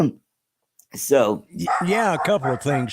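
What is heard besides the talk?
dogs barking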